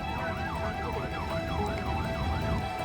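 An ambulance siren wails in steady repeating up-and-down sweeps from a UK emergency vehicle responding to a road traffic collision, loud and continuous over road rumble, with no voices.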